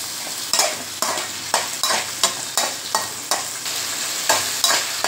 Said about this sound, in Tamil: 3 தக்காளி, போட்டு இதை நல்லா வதக்குங்க